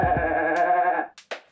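A goat on a children's TV show lets out one loud, sustained, wavering bleat, followed by two short, sharp effect-like squeaks after a brief gap. The sounds are close and clear, with no talking.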